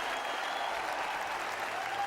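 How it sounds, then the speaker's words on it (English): The crowd at a 2008 Heineken Open tennis match applauds after the final set, a steady, dense wash of clapping from a large audience, sustained and even, heard from a distance. "And with that applause, I think the crowd is saying, please come again."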